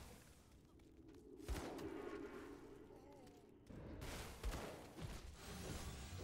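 Enemy fire in the action game Grim Dawn comes as bursts of crackling shots and impact whooshes in two main flurries, fairly loud against the game's background hum.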